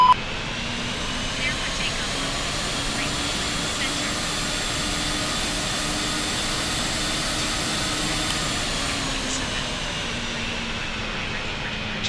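Simulated Emirates A380 jet engines spooling at takeoff in Real Flight Simulator, a steady loud broadband roar with a sustained whine holding throughout, no talk over it.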